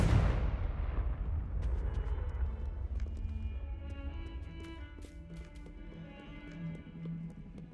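A Confringo fire spell detonates in Hogwarts Legacy with a loud burst at the very start, then a rumbling decay into scattered clicks, crackles and faint tonal game sounds.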